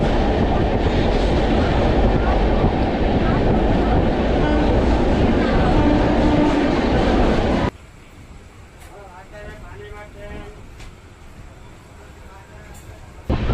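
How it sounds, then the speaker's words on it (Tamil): A Chennai-to-Calicut passenger express rolls into a junction station at night, a loud steady rumble and clatter of rail cars that suddenly drops to a quieter interior hum with faint clicks and voices. "ஜோலார்பேட்டைக்கு அடுத்து தான் இப்போ ட்ரெயின் உள்ளே என்ட்ரு ஆகிறது"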